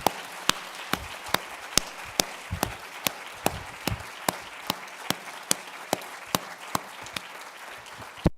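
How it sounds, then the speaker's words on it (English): An audience at a university inaugural law lecture claps in slow, steady unison, with sharp single claps evenly spaced about twice a second and a soft room murmur between the beats. "let's just clap and thank them for everything"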